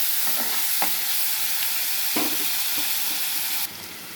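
Onions and green chillies sizzle in oil as salt is stirred through them: a loud steady fry broken by a few sharp spoon scrapes and taps against the pan, alone without voices.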